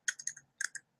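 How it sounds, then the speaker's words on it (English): Quick typing on a computer keyboard, two short bursts of crisp, close key clicks separated by a brief pause, heard alone. "what I can do is just type in the name of that student"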